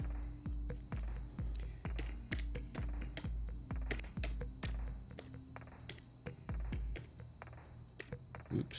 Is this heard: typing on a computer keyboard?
yes